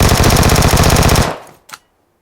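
In PUBG Mobile on the Erangel map, a loud, rapid burst of automatic gunfire cuts off abruptly, followed by one last short shot as the echo dies away.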